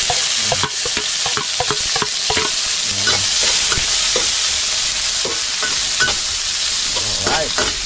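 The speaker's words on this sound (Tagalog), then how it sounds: "Lagay na natin sibuyas bawang." Sliced onion and garlic frying in a little cooking oil in a home kitchen pan, a loud continuous sizzle with scraping and stirring taps throughout.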